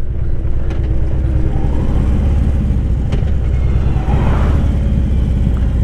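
A Harley Davidson Street motorcycle engine rumbling steadily while being ridden, a constant loud low drone with wind noise and a faint rise in revs near the end.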